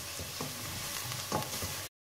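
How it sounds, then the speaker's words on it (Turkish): Tomato and pepper paste sautéing in a pan, a soft, steady sizzle with a few faint stirring scrapes, close and quiet, cutting off abruptly near the end. "Birazcık kavuruyorum salçamı."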